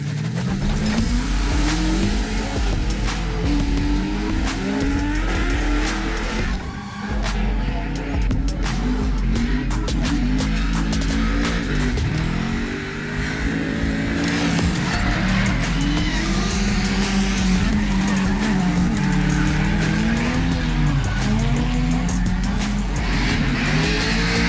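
Drift cars at Sainte-Croix Speedway during an open drift session: loud, continuous engine revving with squealing, skidding tires and rising and falling motor pitch throughout.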